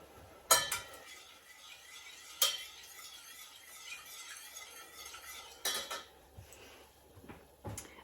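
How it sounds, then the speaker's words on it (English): Spoon clinks against a pan while stirring a red currant and port sauce, a few sharp metallic taps spaced out over a quiet kitchen background with soft scraping between them. "Just going to give that a stir."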